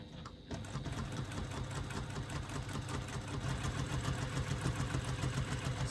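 Sewing machine running quilting stitches on marked lines, a steady rapid mechanical whir with rhythmic needle clatter, close and continuous after a brief quieter start.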